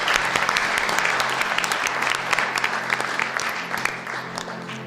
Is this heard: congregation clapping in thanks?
yes